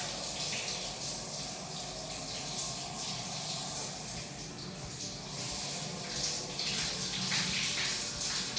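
Shower water running steadily in an airport lounge bathroom, a continuous broadband hiss of spray close by, with no talking.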